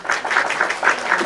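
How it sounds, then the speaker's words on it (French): A short burst of applause from a group, dense overlapping claps rising and pulsing for just over a second, fairly loud and close. "On t'applaudit"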